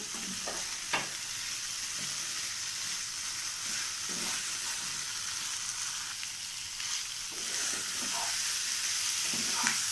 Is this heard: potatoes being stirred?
yes